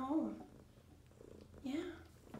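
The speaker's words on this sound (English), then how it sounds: "I don't even have to pet her and she's purring" A calico cat purrs softly and steadily close by, the low rumble running under a woman's speech throughout.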